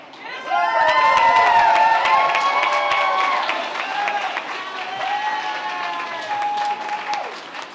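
An audience at a charity gala awards program breaks into loud, sustained applause with cheers and whoops that swell and then slowly taper off.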